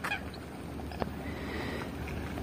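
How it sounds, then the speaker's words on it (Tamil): Ducks and waterhens on Madurantakam Lake, a faint scattered honking and calling from waterfowl over a low outdoor hum, distant and brief. "எவ்வளோ வாத்து இருக்குன்னு, ஃபுல்லாக வாத்து, நீர்க்கோழி, வாத்து, நீர்க்கோழி"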